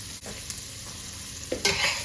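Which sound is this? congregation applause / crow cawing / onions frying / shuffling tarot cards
onions frying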